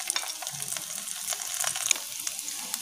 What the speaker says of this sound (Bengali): প্রথমে আমরা রসুন কুচিটা দেব। এটা আগে প্রথমে একটু ভেজে নেবো